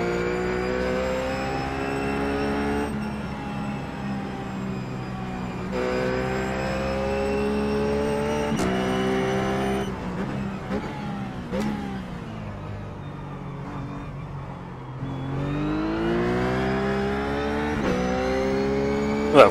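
Ruf GT3 race car in the iRacing simulator at Sonoma, its engine droning steadily through the whole run with repeated rising revs and gear-change drops, loud and close with no talk.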